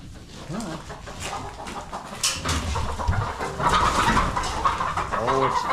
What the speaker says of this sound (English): Oh, it's fine. They're just chickens.